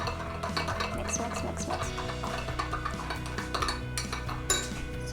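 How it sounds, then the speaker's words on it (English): Raw plant-based yogurt mixture being stirred in a bowl, with steady clinks and scrapes of a utensil against the bowl over a few seconds, close and fairly loud, while someone speaks briefly. "So mix, mix, mix, mix."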